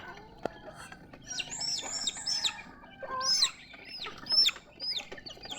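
Pet chickens clucking and calling in the morning, a run of short bright clucks and squawks from several birds close by, with some chirping between calls.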